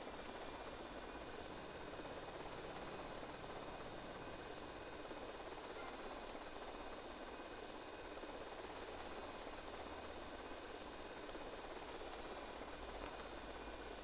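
Remote control helicopter flying in GTA Vice City, a steady continuous buzzing drone of its small rotor and motor, constant and unbroken with no talk.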